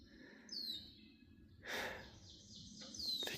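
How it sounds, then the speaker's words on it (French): Birds singing by a lake along the Appalachian Trail in the morning, several clear whistling chirps and trills nearby over a soft, steady croaking frog chorus. "Les grenouilles, les oiseaux."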